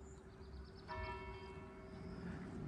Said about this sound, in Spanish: Mirad, ahora se oyen las campanas